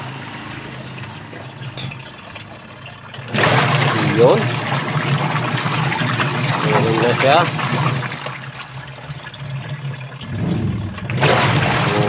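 A Sharp washing machine with a newly replaced gearcase runs with water churning, a steady loud wash noise that starts abruptly, cuts off briefly and then resumes, with someone talking over it.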